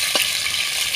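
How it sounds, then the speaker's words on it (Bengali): Small fish fry lightly in oil with a brief, steady, close-up sizzle and an even hiss throughout. "এরকমভাবে আমি হালকা করে সব মাছগুলো ভেজে নেব।"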